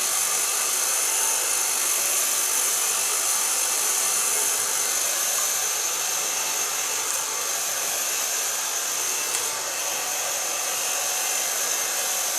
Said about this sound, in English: I start with blow drying